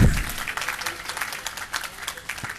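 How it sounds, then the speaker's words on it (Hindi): Audience at a Jain religious discourse clapping, with a brief thump at the start followed by moderate, fairly even applause that carries on at a steady level. "अगर मेरे उत्तर से सहमत हो तो एक बार तालियां बजा दो"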